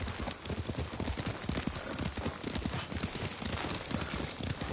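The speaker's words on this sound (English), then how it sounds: "Lord Sakai taught me to ride a horse." A horse's hooves clip-clop in quick, steady rhythm as it is ridden in the video game Ghost of Tsushima, a busy, close galloping patter over ambient noise, without speech.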